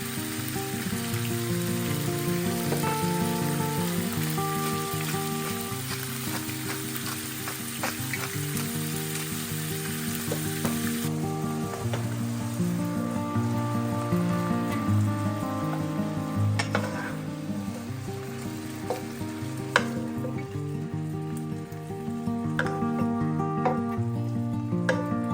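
Food sizzling in olive oil in a pan, a dense continuous crackle and hiss held close throughout, with occasional light clinks of a utensil and no talking.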